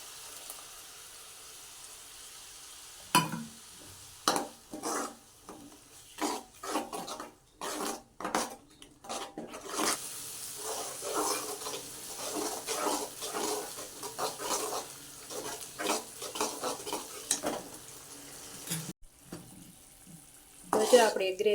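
Tomato gravy for a Gujarati chana bateta shaak sizzles and is stirred in a pan, with intermittent scraping strokes and short bursts of clatter breaking up a low background hiss.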